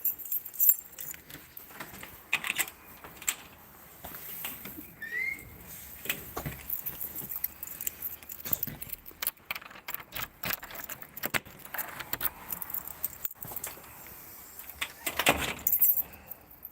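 Keys jangle in repeated short metallic bursts, some close and sharp, spread over several seconds, with scattered handling noises and a faint car-like rumble underneath.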